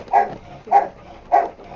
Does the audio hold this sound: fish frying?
no